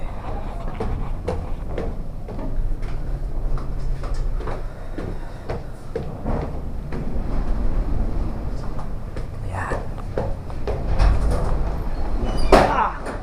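A house door bangs repeatedly in strong typhoon winds during Typhoon Kristine, with sharp knocks recurring over a constant roar of wind and rain and people talking nearby.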